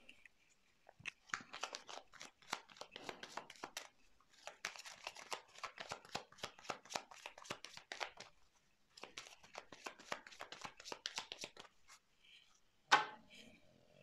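Tarot cards shuffled and drawn for a reading, close crisp riffling and flapping bursts in three long runs with brief pauses, ending in a single sharper snap.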